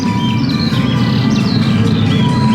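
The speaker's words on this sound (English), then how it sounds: "Oh, that's a loud bird." Birds at LEGOLAND Windsor call loudly in repeated high chirps and sweeping whistles over a dense, constant background hum, close and continuous throughout.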